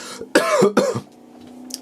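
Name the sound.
cough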